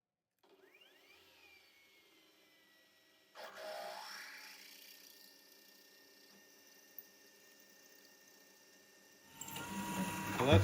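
A 1/8-inch drill bores into an engine crankshaft on a machine, starting with a rising whine, then a louder steady cutting hum with a ringing tone, swelling into a rougher grinding burst at the end.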